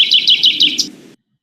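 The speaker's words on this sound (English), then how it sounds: "c'est un perroquet." A parrot makes a quick run of about five bright, rising chirps, loud and close, then stops abruptly into silence.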